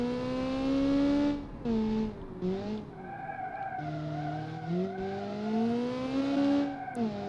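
A Group B rally car with a turbocharged engine running 1.8 bar of boost revs hard and loud, its pitch climbing and falling across several gear pulls, with brief gaps between bursts and no talking.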